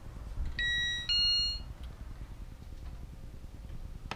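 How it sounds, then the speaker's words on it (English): An NX-6 alarm keypad chiming as a door opens: two short electronic tones in quick succession, clear and close, followed by quiet room noise and a faint click. "That means when you open the door, you'll have a chime."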